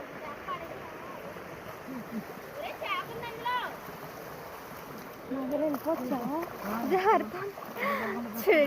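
Water rushing and splashing steadily at Sarugudu waterfall, with a crowd of visitors around and several voices chattering over the constant flow, growing louder toward the end.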